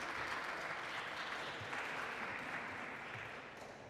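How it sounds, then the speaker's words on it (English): An audience claps at a live pitch event in Lisbon, producing sustained, dense applause at moderate distance that holds steady and tapers slightly at the end. "A round of applause."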